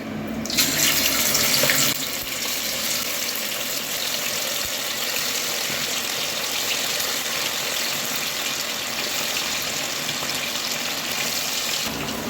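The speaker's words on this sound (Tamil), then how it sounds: "இப்போ கறியை பொரித்து எடுத்துக்கலாம்." Chicken 65 pieces deep-frying in hot oil on a stove: a loud, steady sizzling hiss that starts abruptly as the meat goes in and holds evenly for about twelve seconds, with no talking.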